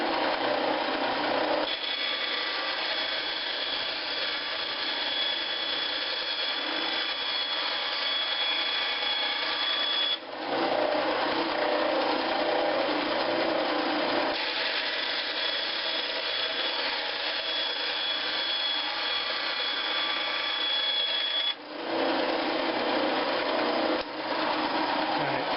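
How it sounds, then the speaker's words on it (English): A bandsaw cuts 5/8 inch Kydex strips in a workshop, giving a steady high whining buzz in long unbroken passes, each one stopping briefly before the next cut begins. "the bandsaw makes short order of most of this stuff. Cuts a nice straight line."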